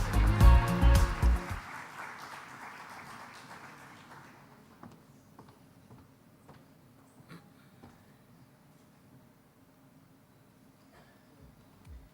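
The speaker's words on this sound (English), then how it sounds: "Big round of applause." Audience applause at a women entrepreneurs' awards ceremony: a loud burst of clapping at the start fades within a few seconds, leaving a quiet, murmuring hall with scattered faint noises.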